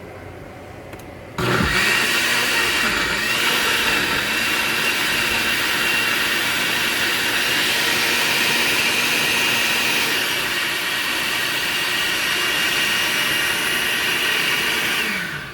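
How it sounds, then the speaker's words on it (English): After a short quiet moment, a blender roars on, chopping peppers, chili, onions, garlic and tomatoes for a Mexican red salsa. Its loud, steady whine runs close and unbroken for over a dozen seconds, then cuts off. "So we're going to pulse it again."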